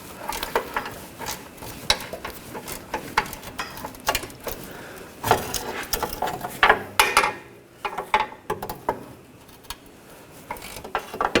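An 18mm socket wrench ratchets against a bolt on the rear spring of a 2009–2017 Volkswagen Tiguan, a series of close, irregular clicking bursts with metallic knocks and brief pauses between strokes.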